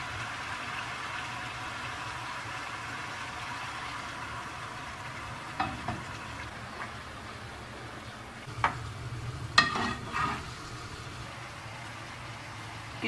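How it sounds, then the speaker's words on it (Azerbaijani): Meat fries gently in a small amount of fat in a pan on a country farm stove, a steady soft sizzle with a few sharper clinks and stirring scrapes near the end. "Bir az içərisində qovururuq, çox az miqdarda qovururuq."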